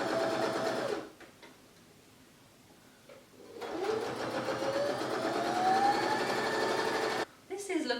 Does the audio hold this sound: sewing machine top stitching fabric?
yes